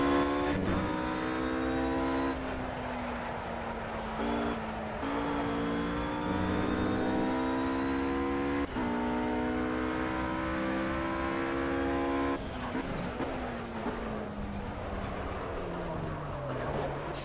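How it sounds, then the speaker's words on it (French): Race car engine in Project CARS droning steadily at high revs with pitch shifts through gear changes, and a brief jolt as the car bounces over a kerb, close and continuous. "Là on a rebondi sur le vibreur, ce qui n'est jamais une si bonne chose."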